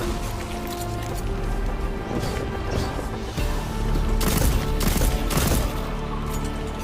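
Pistol gunfire in the video game Destiny 2, a quick series of sharp shots that bunches into rapid bursts near the end, over a steady hum of game noise and with no voices.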